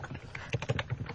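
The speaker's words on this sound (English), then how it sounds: "Stop typing." Rapid clicking keystrokes on a computer keyboard, close and fairly quiet, tapping in an irregular burst with no talk over it.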